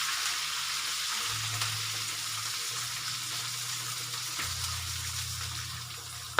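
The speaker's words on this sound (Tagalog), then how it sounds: "Ilagog po natin bandang buntot sa mantika." Tilapia frying in hot cooking oil, a steady, loud hiss and crackle that continues without break, with a low hum underneath and no voices.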